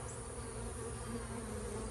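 Dense, steady buzz of many honeybees around a nuc hive on a tree, loud and close, continuous throughout with no voices.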